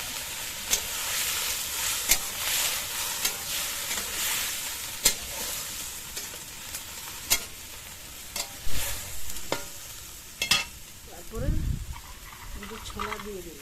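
Banana flower (mocha) frying in oil with turmeric, with a low steady sizzle broken by occasional sharp utensil clinks and scrapes, and a voice speaking briefly near the end.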